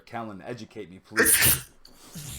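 A single sharp, loud sneeze bursts out in the middle of a casual esports predictions chat, coming right after a man's short spoken request and followed by quieter breathy noise.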